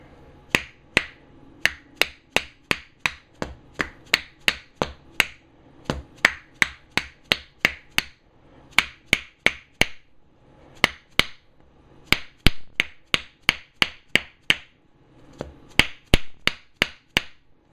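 A hammer drives a bearing onto the shaft of a Delta 22-540 planer against a wooden block, making sharp metallic strikes in quick bursts of several blows, close and loud, with short pauses between sets.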